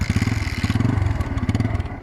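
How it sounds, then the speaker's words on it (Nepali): A motorcycle with a dead battery, kick-started by foot, now idling with a steady, loud, rapid pulsing engine chug close by. "किक हानिसकेपछि हाम्रो बाइक स्टार्ट भइसकेको छ"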